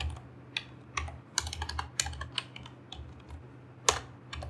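Go code typed on a computer keyboard, irregular clicking keystrokes in short bursts with a few sharper key hits, close and clear with no talk.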